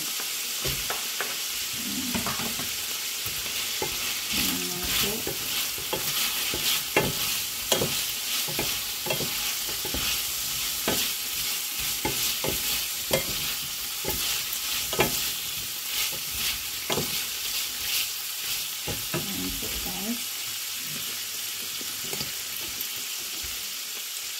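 Garlic and onion sautéing in a pan, a constant bright sizzle with repeated scraping stirs and clinks of the utensil at irregular intervals, heard up close without talking.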